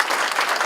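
Audience applause at a political soup supper campaign event, a steady dense wash of clapping from a crowd filling the short moment without any voices on top.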